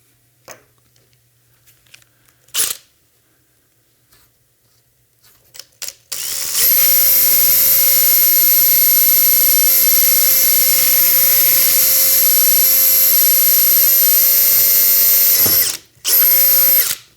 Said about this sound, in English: and then we can drill that hole.